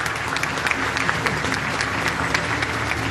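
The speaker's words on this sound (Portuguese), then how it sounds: "A Sofia Cabedon, pode aplaudir," An audience at a public cultural event in Rio Grande do Sul applauds, steady, dense clapping with a few sharper claps standing out, under a low hum of room noise.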